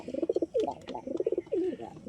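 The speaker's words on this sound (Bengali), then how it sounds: "তো আসুন এই পায়রা দুটো আমরা একটু ছেড়ে বন্ধুরা জাস্ট পায়রাগুলোর অ্যাগ্রেশান দেখুন" Madrasi pigeons coo in repeated rolling bursts just after being let loose, the calls close and fairly loud with short gaps between phrases, and no one talking.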